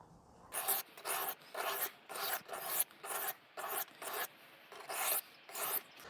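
A kitchen knife rubbed on the smooth side of an aluminium oxide sharpening stone, rasping in about ten steady, evenly spaced strokes, close and clear with no talking.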